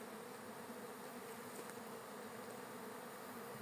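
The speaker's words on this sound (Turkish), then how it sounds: "Ama kovan yavru uçuruyor kadar yoğun ki." Honeybees from two side-by-side hives fill the air in a dense, unbroken buzzing as young bees take flight, heard as a faint but even hum throughout with no voices.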